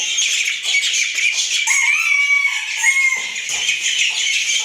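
Chicks and ducklings make a dense, continuous chorus of high, overlapping peeps and chirps close by, with no talking.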